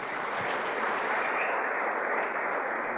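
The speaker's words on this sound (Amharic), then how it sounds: "ለሰዓሊው አንድ ሞቅ ያለ ጭብጨባ።" An audience at an award ceremony held at the Sheraton gives a painter steady, dense applause, loud and sustained throughout without talk.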